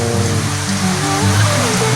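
Heavy rain pours steadily at Siruma beach in Camarines Sur, a loud, dense wash of drops with a low rumble underneath.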